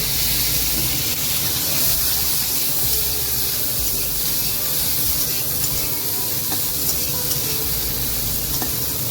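Bitter gourd frying in hot oil in a pan, a loud, dense, continuous sizzle that holds steady and close throughout.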